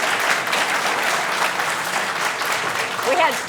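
Partisan debate-hall audience at a Massachusetts Democratic gubernatorial debate claps loudly and continuously, with a voice talking over the ovation near the end.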